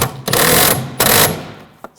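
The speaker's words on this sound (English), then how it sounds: "Now I'll tighten this bolt down." Ratcheting tool bursts while tightening a bolt on the ignition coil cover of a 2007-2013 BMW 328i 3.0L inline-six, with two loud close buzzing runs separated by brief pauses and a short click near the end.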